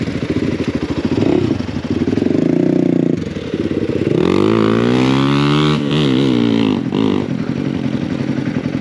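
Royal Enfield Himalayan 450 Rally motorcycle with performance upgrades riding on a dirt trail: close, loud single-cylinder engine note revving up and down through gears, with rising and falling pitch sweeps and light clatter.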